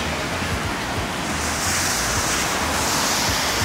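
The Los Angeles River in flood, running at street level with roughly 10 to 15 feet of water, makes a steady, loud, broadband roar of rushing water and wind noise throughout, with no voices.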